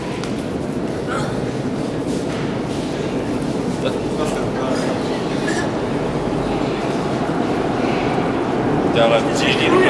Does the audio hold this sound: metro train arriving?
yes